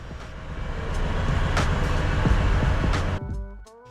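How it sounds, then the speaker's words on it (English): A local train at an Indonesian station on the Yogyakarta to Jakarta line crosses in front of the platforms, making a loud continuous rumble with rhythmic wheel clacks for most of the clip before it abruptly drops away, with no talk. "The local trains leave from the front 3 platforms, and you need to wait for them to cross"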